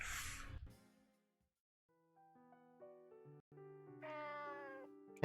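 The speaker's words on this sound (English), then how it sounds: "Hey, kitty cat, what are you doing here?" A cat meows in the video game Nights of Azure, a short mewing call near the end after a brief burst of noise and quiet melodic game music.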